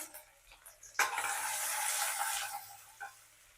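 Chopped onion hits hot oil already tempered with mustard seeds, cumin and asafoetida for a dhaba-style sev tamatar sabzi, setting off a sudden loud sizzle that stays steady for about a second and a half before fading, with light stirring clatter.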